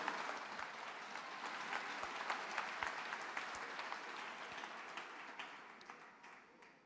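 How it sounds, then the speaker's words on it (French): A church congregation at a Paris conference claps hands together, a steady, fairly distant wash of applause with some sharper individual claps in the mix. "Clap your hands and thank the Lord"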